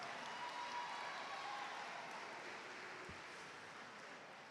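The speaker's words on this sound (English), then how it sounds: "Let's give them a round of applause." A graduation audience at a high school ceremony gives a round of applause, a continuous, even spread of clapping from a large crowd that fades slightly toward the end.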